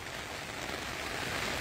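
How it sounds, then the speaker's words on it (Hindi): Heavy monsoon-style rain falling outdoors makes a loud, unbroken wash of hiss and spatter throughout, with no voices. "बहुत तेज बारिश होती जा रही है"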